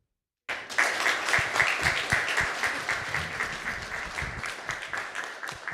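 Sustained applause from a crowd at a school district board of trustees meeting, beginning abruptly after a short silence and continuing steadily with dense overlapping claps, gradually easing slightly toward the end.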